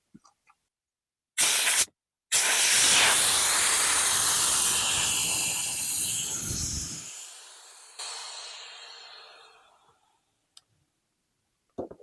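A Cachalot 2S 12V portable SUP pump deflating a board: a few clicks, then a loud rushing hiss of escaping air that slowly fades over several seconds, followed by faint ticks.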